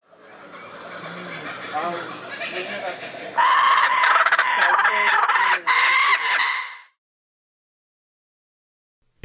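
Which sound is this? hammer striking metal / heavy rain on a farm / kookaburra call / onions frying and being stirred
kookaburra call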